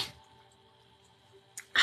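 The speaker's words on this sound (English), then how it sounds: "I feel a sneeze coming on." A single sneeze bursts out at the very end after a quiet stretch, preceded by a short sharp intake or near-sneeze, close and fairly loud against a faint background hum.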